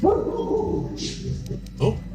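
A pet dog gives a couple of short, low barks and whimpering yips close by, loud against game dialogue and music, with a brief spoken exclamation.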